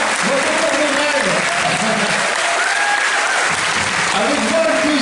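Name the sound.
audience applause for Émilie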